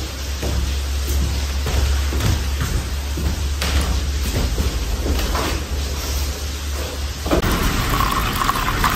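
Warm water is poured into a cup to mix a honey drink, giving a steady, hissing trickle that runs for several seconds without any talk.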